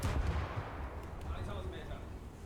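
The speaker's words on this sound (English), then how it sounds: "We are still firing the SAP shells because at this range I don't really need the AP rounds" The battleship Scharnhorst in the War Thunder video game firing SAP shells, a heavy booming cannon blast at the start rolling off into a long low rumble, with a voice talking over it.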